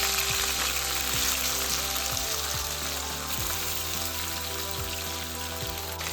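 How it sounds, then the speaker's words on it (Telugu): Cut potato pieces fry in hot oil with curry leaves and dried red chillies, giving a steady, dense sizzle. Occasional soft scrapes or knocks from stirring come through, and no one speaks. "కట్ చేసుకున్న పొటాటో ముక్కలు వేసుకున్నామండి."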